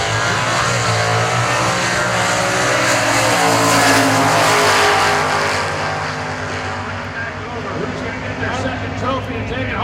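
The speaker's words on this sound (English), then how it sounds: "Dean will drop the clutch and roll through the gears" Top Fuel and Funny Car drag racers launch and accelerate down the strip at the 2019 NHRA New England Nationals, a loud, thunderous engine roar that holds strong for several seconds and then fades as the cars pull away. A voice talks underneath.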